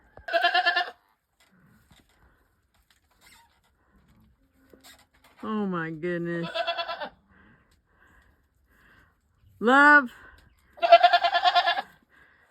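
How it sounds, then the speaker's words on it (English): Nubian goats bleat loudly and close by in several long, wavering calls spread through the stretch, with someone speaking briefly between them. "goats like you are the reason Nubians have such a horrible reputation for being such loud, obnoxious creatures"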